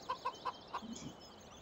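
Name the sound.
wild chickens clucking in video game Farming Simulator 17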